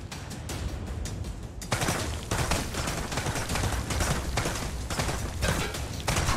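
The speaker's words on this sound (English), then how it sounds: "Someone's shooting." Gunfire in a VR shooting game comes as rapid, dense bursts of shots that keep up almost without a break, loud and near, with a short lull before the firing grows heavier.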